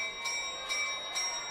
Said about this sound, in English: And here's the bell lap.